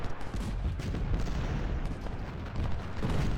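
Massed musket volleys and artillery rumble in an Ultimate General: Civil War battle, a dense, continuous crackle of distant fusillades rolling on without pause.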